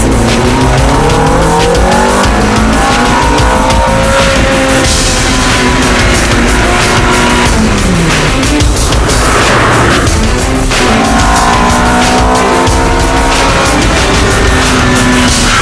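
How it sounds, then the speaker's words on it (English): A Ferrari sports car drives at speed on a road trip from San Luis Obispo to Los Angeles, its engine loud and constant, rising and falling through gear changes over a steady roar of wind and road noise. "in Chuck's Ferrari, the time flies"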